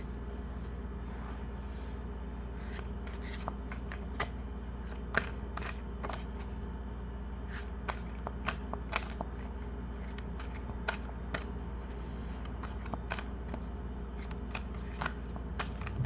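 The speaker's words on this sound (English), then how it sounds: "Gonna reshuffle those in." Tarot cards reshuffled by hand, giving a steady run of faint riffling and light snapping clicks over a low background hum, with no talking.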